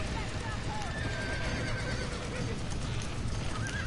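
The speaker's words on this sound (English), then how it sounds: "Gotta save the horses." Horses in the Red Dead Redemption video game neigh and whinny amid clip-clopping hooves, fairly quiet in the mix, with a voice talking over them.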